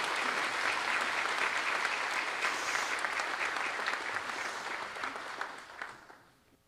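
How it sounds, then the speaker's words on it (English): Sustained applause from an audience at a public safety awards ceremony honoring life-saving award recipients, dense steady clapping that gradually thins and fades out at the end. "Please give another round of applause to all those here receiving this life-saving award."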